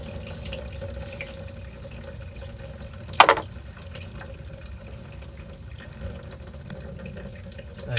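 Coolant trickling steadily out of a BMW E39 540i radiator during a coolant system overhaul, a faint continuous drain with one brief louder splash midway.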